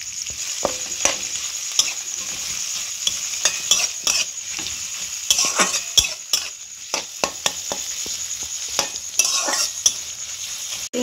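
Chopped onion frying in hot oil with bay leaf, cardamom and cinnamon gives a bright, continuous sizzle, with frequent clicks and scrapes from a spoon stirring the pan, close and fairly loud.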